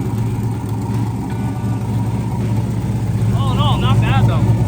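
A loud turbocharged 6.0 engine in a 1984 S10 rumbles steadily with a turbo whine and puffing exhaust chatter from an exhaust leak, with bird-like chirps near the end.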